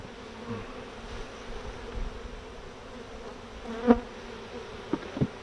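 Honeybees buzz softly around an open hive, a low steady hum with a few brief louder buzzes passing close near the end.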